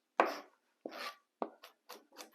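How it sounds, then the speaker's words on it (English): Knife mincing garlic on a cutting board, with a few sharp, close chops followed by quicker, lighter strokes. "as you're mincing up the garlic, you don't want to mince up your fingertips"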